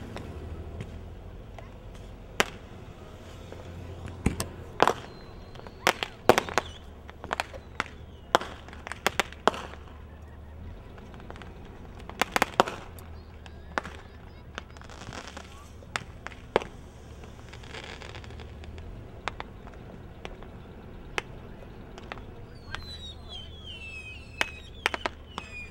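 Fireworks and firecrackers go off on the Fourth of July near Seattle and Ocean Shores, scattered sharp cracks and pops at varying distances across a long stretch, with people talking intermittently in the background.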